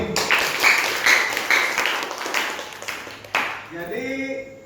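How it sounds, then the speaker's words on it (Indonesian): Classroom audience applauding a student, a burst of dense clapping that swells and fades over several seconds, fairly close, with a few voices mixed in near the end. "Aplaus untuk Amin."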